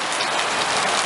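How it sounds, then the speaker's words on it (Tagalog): Heavy rain pours steadily in Araullo, a dense continuous hiss of drops on surfaces with no voices, loud and even throughout. "Malakas, malakas, malakas ang ulan, pero maliwanag na."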